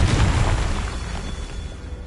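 A Confringo blasting spell goes off in Hogwarts Legacy as a loud, low boom that rolls and decays slowly over about two seconds, with no voices.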